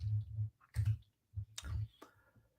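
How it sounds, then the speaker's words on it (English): Computer keyboard keys clicking in short irregular bursts, close and fairly quiet, with brief pauses between strokes and no talking. "If I can type."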